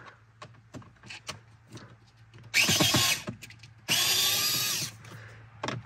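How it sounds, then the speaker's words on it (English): Close cordless drill or power driver backing a screw out of Subaru Legacy or Outback dash trim, two whirring bursts of about a second each, after a few light clicks and handling noises. "we can remove this screw here"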